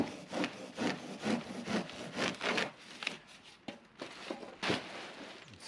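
A handsaw cuts kerf cuts into a wooden board for a rental cabin build, with rhythmic back-and-forth rasping strokes that pause briefly and then resume, close and fairly quiet.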